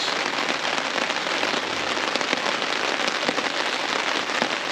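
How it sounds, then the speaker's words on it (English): Heavy rain pours steadily onto a woodland camp in the early morning, a dense, continuous hiss of drops striking leaves and shelter, with no voices. "lashing down the rain. Started about half an hour ago."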